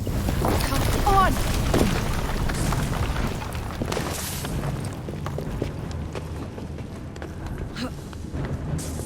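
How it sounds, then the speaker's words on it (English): Deep rumbling booms and a sustained low roar from a blast in Assassin's Creed Syndicate, set in London, rolling on for several seconds among scattered cracks and debris-like clatter, with no talk over it. "What was that explosion?"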